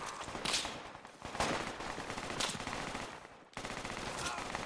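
Gunfire in a Project Reality military shooter firefight: dense, crackling bursts of automatic and single shots keep coming without pause, loud and close, with a brief drop near the end before the shooting resumes.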